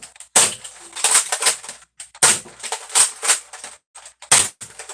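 Dart Zone Max Stryker foam dart blaster firing in a series of sharp bursts, with several loud broadband pops at uneven intervals alongside lighter mechanical clatter, close up with no talking.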